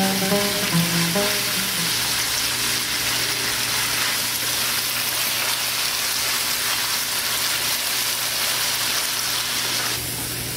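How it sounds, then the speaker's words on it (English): Steady, loud sizzling of greens sautéing for Pad Thai in a hot deep frying pan, a continuous crackling hiss throughout with a brief clink of utensils at the start. "Now we'll throw in our greens. They require a little bit of sauteing to get soft."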